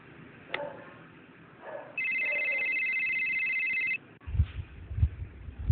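A cellphone rings with a steady electronic tone for about two seconds, moderately loud over quiet room noise, then stops as a thud follows.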